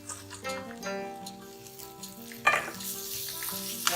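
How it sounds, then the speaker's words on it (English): Fried potatoes get stirred into a thick masala paste for Kashmiri dum aloo, giving a sizzle and a scraping clatter of the spoon at mid-clip, heard beneath continuous background music. "At this stage, we add the fried potatoes"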